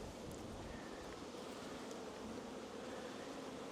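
Bees hum steadily at an open beehive during a summer evening inspection, a soft continuous buzz with faint breezy rustle and no talking.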